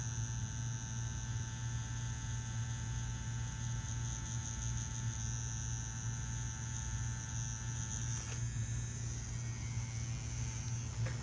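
A tattoo machine buzzes steadily while color packing ink into skin, a constant electric hum with a tonal whine on top, held at a level drone the whole time.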